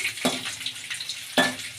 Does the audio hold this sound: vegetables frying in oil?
yes